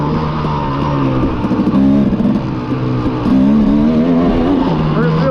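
Motocross dirt bike engine on a dry motocross track, loud and steady with the pitch rising and falling as the rider works the throttle, close throughout.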